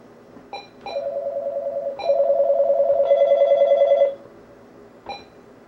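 An incoming call rings on a telephone line during a call-in show: a steady electronic tone sounds in two bursts, the second longer and richer, framed by short beeps before and after.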